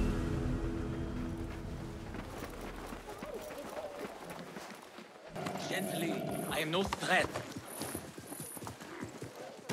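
Horse hooves clip-clop at a steady trot in the game Assassin's Creed Mirage, with a brief whinny, close and moderately loud, under characters talking.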